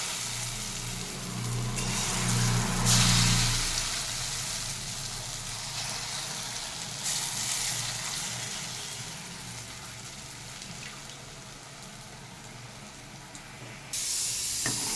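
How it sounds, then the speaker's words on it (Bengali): Chana dal fritters frying one by one in hot oil give a steady hiss and sizzle, loudest early on and then settling into a softer, continuous crackle close by, with no talking. "আমি এক এক করে বড়াগুলোকে ভেজে দিচ্ছি"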